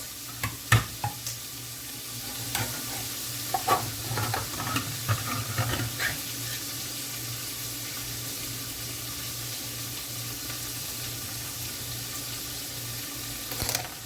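Herbs fry in a pan while being stirred, a soft continuous sizzle beneath a low hum, with scattered scraping and clinking knocks early on and again near the end.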